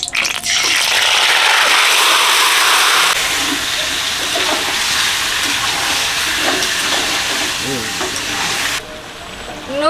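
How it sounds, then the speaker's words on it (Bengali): Rooster meat frying in hot mustard oil with dried chilli and bay leaf, a loud, dense, continuous sizzle with stirring scrapes close up, easing slightly near the end. "সর্ষের তেল দিয়ে দিচ্ছি শুকনো লঙ্কা তেজপাতা মাংস দিয়ে দিচ্ছি নুন"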